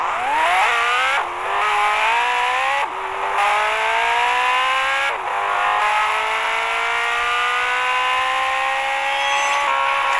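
A car driven in the Gangstar Vegas video game: a loud engine that revs up repeatedly through rising gear shifts, with short drops between them and a whirring tire tone, and no talking.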